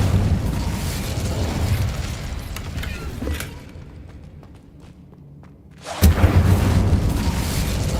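The Incendio fire spell from Hogwarts Legacy goes off in loud booming whooshes. The roar fades into a quieter stretch with faint rattles, then a second blast bursts back in at full strength.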